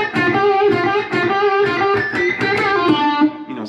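Electric guitar lick in Roy Buchanan style, frantic and chirpy, with quick, busy picked notes running continuously at a loud, close level, no talk.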